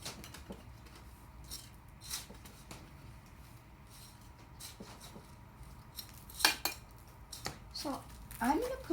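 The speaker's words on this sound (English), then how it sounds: "And then I'm going to put my soil in." Potting soil is dropped into a clay pot for a lemon tea herb, giving soft scattered thuds and scrapes at close range, with a few sharper clinks and rustles near the end.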